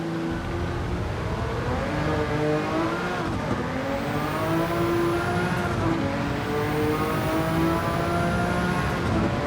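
Jaguar XJR-9 race car lapping Spa in Gran Turismo 7, its engine roaring loud and close with rising and falling revs through gear shifts and a brief high squeal of tyres, no talking.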